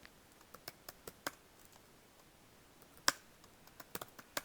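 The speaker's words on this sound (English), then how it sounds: "So we just can type answers to this." Keystrokes on a computer keyboard while answers are entered into a setup prompt: scattered, irregular clicks, mostly light with one sharper louder hit, quiet room, no talking.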